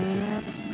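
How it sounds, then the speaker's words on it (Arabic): A car engine holds a loud, steady, close hum for under a second. "اسمع الموتور ما عجبتنيش"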